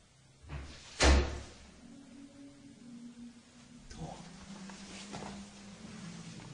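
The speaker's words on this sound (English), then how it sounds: "That's this door, isn't it?" Inside an abandoned house, a door bangs once with a sharp, loud thud, followed by quieter creaks and low rumbling movement.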